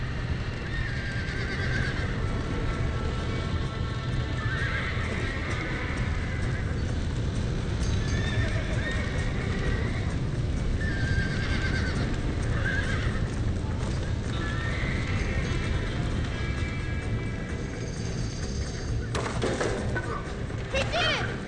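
Horses in Red Dead Redemption whinny repeatedly over a constant drumming of hooves, loud and near, with voices shouting now and then amid the commotion.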